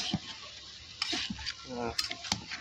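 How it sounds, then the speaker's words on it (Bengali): Potatoes are stirred in a frying pan, several distinct scraping and clinking strokes of a utensil against the metal over a faint sizzle, close and fairly quiet. "আলু দিয়ে একটু নেড়ে দেবো।"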